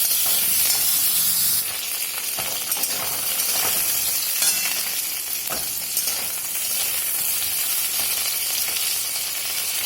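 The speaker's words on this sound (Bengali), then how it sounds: "পটলগুলো আগে ভেজে নেব।" Pieces of pointed gourd fry in hot oil with a loud, dense, continuous sizzle and hiss, broken by occasional scrapes of stirring, no voices.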